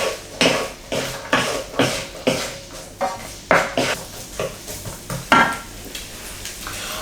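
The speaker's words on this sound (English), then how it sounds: "Onions, peppers and garlic. We stir that for a bit." Onions, peppers and garlic sizzle in a pan while being stirred, a rhythmic series of close scraping and clattering strokes roughly twice a second over a soft background hiss.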